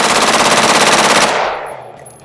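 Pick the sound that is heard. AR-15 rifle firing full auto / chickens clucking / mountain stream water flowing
AR-15 rifle firing full auto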